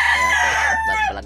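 A rooster crows close and loud in a backyard game farm, a single strong harmonic call lasting about a second, alone without talk.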